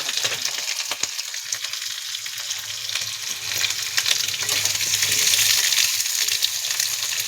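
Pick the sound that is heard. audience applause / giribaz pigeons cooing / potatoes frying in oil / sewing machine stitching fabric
potatoes frying in oil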